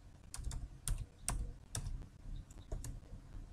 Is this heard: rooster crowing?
no